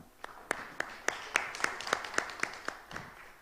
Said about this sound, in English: I'd like to offer a round of applause to Dr. Maranga.